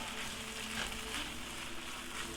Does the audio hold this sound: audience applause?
no